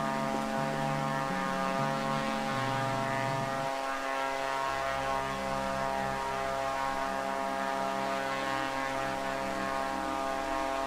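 Light aircraft approaching in real life, a steady propeller drone with shifting low tones that rise then settle into a continuous hum, joined by a faint mains-like buzz.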